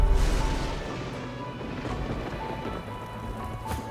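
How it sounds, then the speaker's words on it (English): A rain spell in Divinity: Original Sin II comes down as a dense, steady patter of falling rain. It starts with a heavier burst and then carries on evenly at moderate loudness, with a few brief splashy impacts mixed in. "I need my wife to put some rain down."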